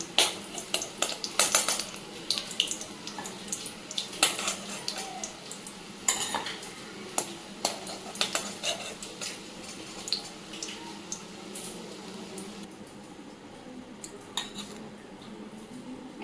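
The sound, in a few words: fried fish-roe fritters being lifted out of the pan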